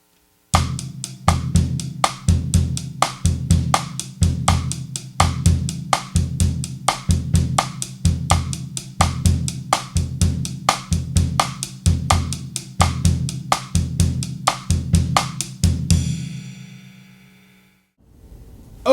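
Drum kit playing a full bossa nova beat with rim clicks, a steady repeating pattern of low drum thumps and sharp clicks in even rhythm, close and clear for about sixteen seconds before ringing out and stopping.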